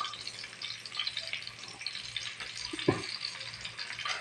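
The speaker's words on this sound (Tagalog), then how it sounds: "Ayan, magprito tayo ng tinapa" Smoked fish (tinapa) frying in a pan gives a steady low sizzle and crackle, with a brief clatter partway through.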